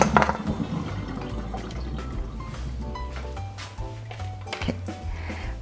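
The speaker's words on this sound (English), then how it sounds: "So rinse the ribs well with water." Par-cooked beef short ribs are rinsed under running water, a steady splashing flow with clatters and knocks of the ribs and the container throughout.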